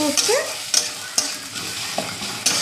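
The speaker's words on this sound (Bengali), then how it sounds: "মশলাটাকে ভালো করে কষতে হবে" Meat masala and garam masala being fried down in a pan, with a low sizzle under sharp, spaced spatula knocks and scrapes against the pan, close by and with no talking.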